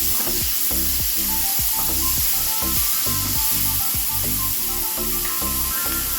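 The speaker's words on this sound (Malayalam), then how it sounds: "കുറച്ച് വെളിച്ചെണ്ണ ഒഴിച്ചിട്ട് തക്കാളി ഒന്ന് വേവിച്ചെടുക്കണം" Tomatoes sizzle and spatter steadily in coconut oil in a small pan, with regular stirring scrapes cutting through the loud, close frying.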